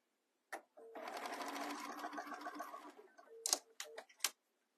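A sewing machine stitches a fabric phone case in a quiet room: a short burst, then a couple of seconds of rapid steady whirring and ticking, followed by a few brief separate stitching bursts.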